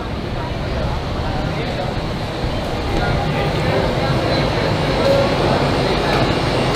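Inside a subway station during a storm, a dense low rumble of a train and station machinery that builds slightly toward the end, steady and fairly loud with no clear speech.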